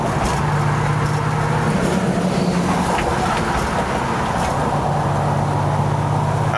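A 1963 Chevrolet Corvair cruising in fourth gear at about 45 mph and 2,000 rpm, its engine a steady low hum under constant road and wind noise from inside the cabin.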